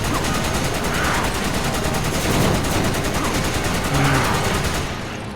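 Sustained automatic gunfire in Resident Evil 5, a loud, dense rapid rattle of shots continuing steadily before easing at the end.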